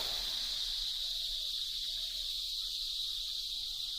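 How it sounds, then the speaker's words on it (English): Dense, continuous high buzzing of cicadas in an Indian forest, loud and unbroken throughout with no other sounds. "The cicada's love song is the loudest noise in the insect world."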